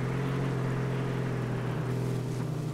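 Steady low engine drone with a constant hum from a car in the video game H1Z1, loud and continuous throughout, like a vehicle idling or cruising with no voices.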